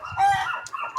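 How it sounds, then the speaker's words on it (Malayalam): BV380 native chickens give a brief burst of close clucking calls, with a short cry followed by softer clucks, all within about a second. "ഇത് എല്ലാം BV380 നാടൻ കോഴികൾ."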